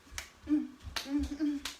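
Three sharp hand claps, evenly spaced about a second apart, with brief voice sounds in between.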